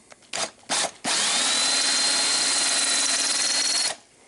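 A drill running in a coin ring drill jig: two short bursts, then a steady, loud, close whine held for about three seconds before it spins down, with no talking.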